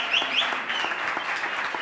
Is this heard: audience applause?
yes